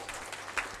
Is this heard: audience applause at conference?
yes